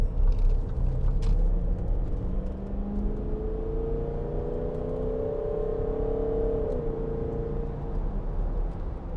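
A 2012 Range Rover 4.4 TD V8 accelerates hard from a standstill, its engine a loud, steady rumbling roar with rising and shifting tones heard from inside the cabin, with no talking.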